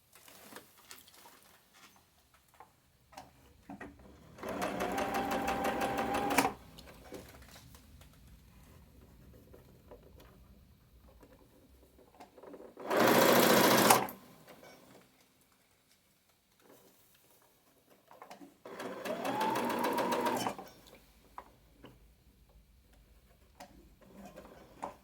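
A sewing machine stitches set-in sleeves in three separate bursts of rapid, even mechanical whirring with quiet pauses between them, the middle burst short and loudest.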